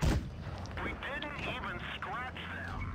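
Tank cannon fire in World of Tanks Blitz: a loud boom opens the clip, followed by game effects and rumble while a commentator talks over it.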